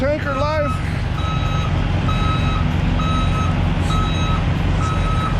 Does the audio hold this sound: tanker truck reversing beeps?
yes